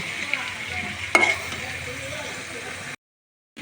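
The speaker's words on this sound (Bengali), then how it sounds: "এই যে খাসির মাংসটা আমি ভালো করে তেলে ভেজে নিয়েছি।" Mutton pieces fry in oil with onions as they are stirred, a close, steady sizzle with one sharp scrape of the spoon partway through. The sound cuts out abruptly near the end.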